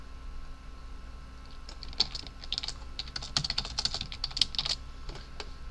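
Fast, uneven typing clatters on a computer keyboard, starting after a quiet second and continuing in dense bursts of keystrokes at moderate volume over a low background hum.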